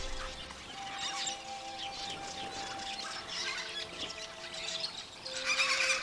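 Major Mitchell cockatoo and other Australian cockatoos giving raucous, harsh calls at moderate distance, repeated irregularly throughout against a steady outdoor background with a faint constant tone.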